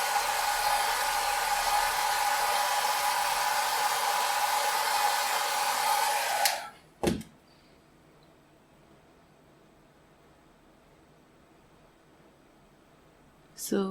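A hair dryer drying alcohol inks on a glossy surface blows with a steady, loud roar, then clicks off and leaves near silence until it starts up again briefly at the very end.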